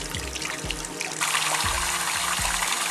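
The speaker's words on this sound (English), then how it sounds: "Open the tap and always check that it's lukewarm water" Lukewarm water runs from a tap into a sink for a hair shampoo, a steady splashing stream that grows fuller partway through, with low knocks from handling beneath it.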